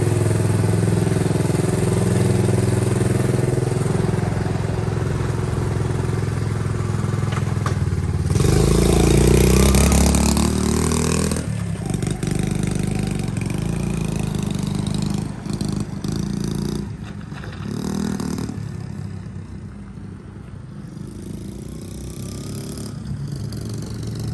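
A Honda CT70 K0 minibike engine runs steadily nearby with a rattly mechanical clatter, rising and surging as it shifts through its gears and settling toward the end.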